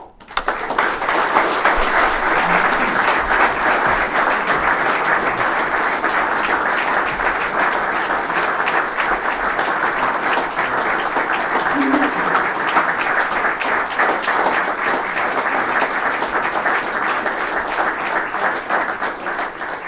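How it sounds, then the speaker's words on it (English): Long, sustained audience applause after a memorial lecture, a dense wash of many hands clapping at an even, loud level for the full twenty seconds. "Longest applause we've ever had for anyone"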